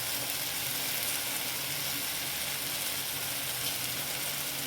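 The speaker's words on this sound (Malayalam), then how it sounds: "ഇനി ഒന്ന് ഇളക്കി കൊടുക്കാം" Masala with tomato sizzling in a frying pan for an egg and soya chunk curry, a steady close hiss with faint stirring underneath and no voices.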